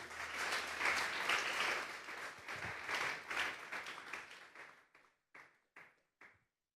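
A church congregation at a Sunday service applauds loudly and steadily for several seconds. The clapping then thins into a few separate, fading claps before stopping.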